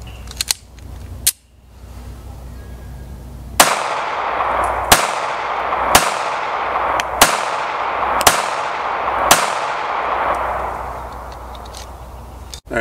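A Springfield 911 .380 ACP pistol fires frangible hollow point rounds: six sharp, loud shots at about one-second intervals outdoors, each trailing a brief echo, with a few faint clicks and handling noises before the string.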